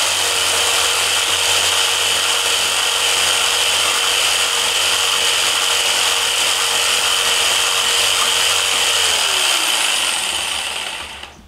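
A jigsaw trims the edge of a wooden stool seat with a steady, loud, buzzing cut that holds for about eleven seconds before the motor winds down at the end.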